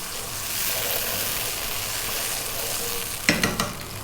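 Sauce with fish sauce sizzling in a hot pan for sticky pork ribs, a loud continuous frying hiss followed near the end by a few quick scraping stirs.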